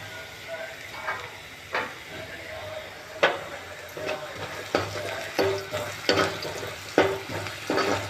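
Onions frying in a covered pan before chicken is added: a steady low sizzle and hiss with scattered stirring clicks and taps, moderately loud and close, with no talk.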